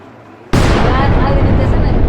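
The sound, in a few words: homemade firecracker bursting for Diwali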